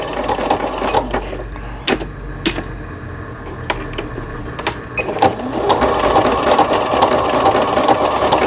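A Singer 7640 domestic sewing machine runs a zigzag stitch, its needle clattering rapidly and steadily with mechanical ticks and whirring, close and alone without talk.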